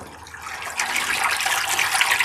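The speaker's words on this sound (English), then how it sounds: "aim this hose, this water source, right into the sucker hole" Water from a garden hose pouring into the intake of a homemade hydroseeder pump, a steady close splashing gush that grows slightly louder partway through and continues without talk.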